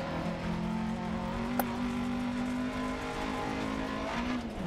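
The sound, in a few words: rally car driving in DiRT Rally 2.0 video game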